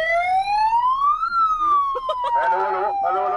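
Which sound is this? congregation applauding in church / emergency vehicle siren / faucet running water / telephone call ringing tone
emergency vehicle siren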